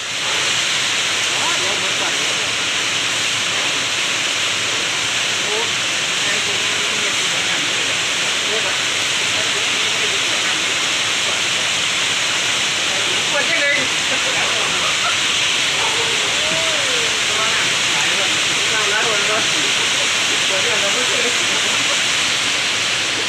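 Heavy rain pouring down during flooding, a dense, steady broadband hiss lasting throughout, with faint voices talking underneath.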